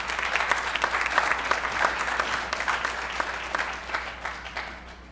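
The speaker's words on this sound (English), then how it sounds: "give your parents a round of applause and say thank you for all they've done for you to help you get here" A high school National Honor Society audience applauds parents, a sustained round of dense clapping from a crowd that tapers slightly toward the end over a low steady hum.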